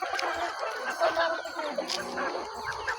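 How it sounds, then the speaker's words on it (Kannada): Country chickens, a native free-range breed, cluck and chatter close by in a continuous, busy stream of short calls at moderate volume. "ಇದು ನಾಟಿಕೋಳಿ"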